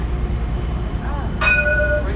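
Two Alstom trams pass each other at Hauts du Chazal, giving a loud continuous rolling rumble. A high ringing tone with clear harmonics rises near the end and holds to the close.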